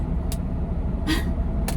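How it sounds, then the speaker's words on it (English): A 1997 lorry engine drones steadily while driving, a low rumbling hum heard from the cab, with a few brief rattles or clicks over it. "So the lorry's a big old girl, 1997."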